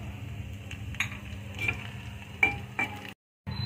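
Cumin, chopped onion and a dried chili sizzle in a hot pan as a steady close hiss, with a few metallic scrapes and clinks from stirring. The sound cuts out briefly near the end.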